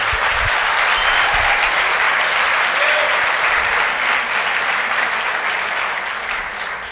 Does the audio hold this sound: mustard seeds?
no